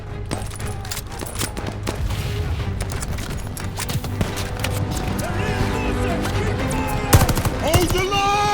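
Machine gun fire in the World War II shooter Call of Duty: Vanguard rattles in rapid bursts amid explosions and battlefield din, with shouted voices underneath and a heavy blast near the end.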